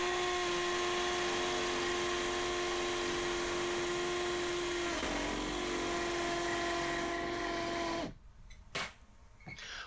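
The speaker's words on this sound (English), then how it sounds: "I can drill through the pre-drilled holes into the bricks and knock in the frame fixings." A power drill bores through pre-drilled holes in a timber frame into brick, a steady high whine with a gritty grinding edge that dips midway and cuts out near the end, followed by a brief rattle.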